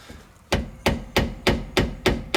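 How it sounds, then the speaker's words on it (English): Hammer knocking a differential oil seal into place on a Morris Minor: six sharp, evenly spaced metallic blows, close and loud, with nothing else heard. "you will need to use a hammer or similar tool just to knock it in and to the right place"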